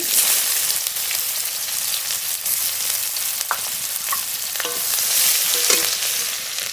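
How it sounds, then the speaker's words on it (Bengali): Black cumin and chopped onion temper in hot oil for a prawn malai curry. A loud, continuous hissing sizzle fills the clip, broken by a few light clinks of a stirring utensil. "ফরন করে নেব ফরনে কালো জিরে পেঁয়াজ কুচি"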